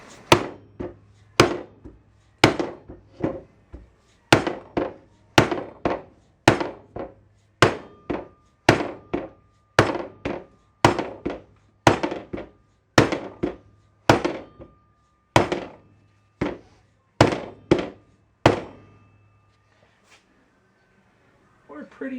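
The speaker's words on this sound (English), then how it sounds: "Let's see if it'll bend with the hammer." A hammer strikes a Datsun 521 ball joint part about twenty times in a steady rhythm, each blow a sharp metallic thwack close up, ending in quiet.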